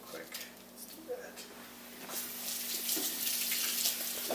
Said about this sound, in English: Let's give them a quick rinse in water.